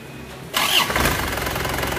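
An Isuzu Panther's engine cranks and catches after a brief quiet start, then settles into a steady, close, loud running rumble with no talk over it.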